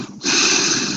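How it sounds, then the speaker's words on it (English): A man breathes directly into a microphone on a webinar call, one long, loud, close exhale rushing through after a brief quiet start. "He's just sitting there breathing"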